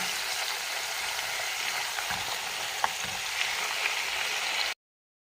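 Potatoes and peppers frying in a pan give a dense, steady sizzle with a few soft stirring scrapes, close and even, cutting off abruptly at the end.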